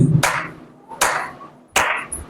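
Three sharp hand claps, evenly spaced about three-quarters of a second apart, close and fairly loud, with no talking.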